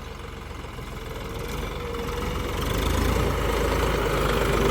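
A John Deere tractor hitched to an 8-foot Shaktiman rotavator idles steadily nearby, its low diesel rumble gradually swelling louder, with no talk over it.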